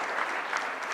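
An audience at a summit applauds in a dense, steady patter of many hands clapping at once, continuing briefly with no voices.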